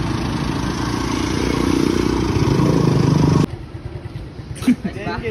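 A motorcycle engine revving loudly and steadily close by, then cutting off abruptly, with outdoor background noise and a brief clatter following.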